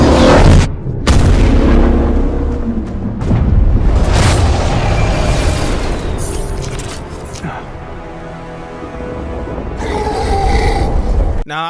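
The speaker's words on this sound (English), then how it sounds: "Now, I want to know who actually thought Cap died during this explosion" A big explosion from the Marvel's Avengers video game fills the clip with loud, dense booming and rumbling debris, a sharp cut, then continuing crashes with a voice over the chaos.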